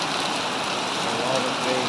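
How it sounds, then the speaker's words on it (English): Heavy rain falls steadily, a dense, constant hiss of drops on surfaces filling the whole stretch at close range, with no pauses. "A lot of rain."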